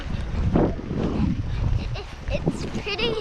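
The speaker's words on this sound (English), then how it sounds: "It's so windy." Gusty blizzard wind roars across the microphone in a snowy yard, a steady loud rush with buffeting, while people talk and breathe over it.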